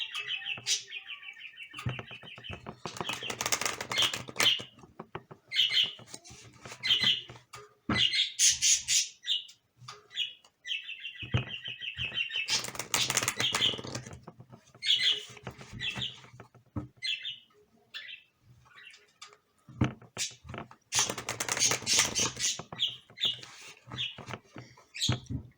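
Outdoor birds chirp, tweet and squawk almost continuously in loud, clustered flurries, with brief lulls between noisy bursts and no talking.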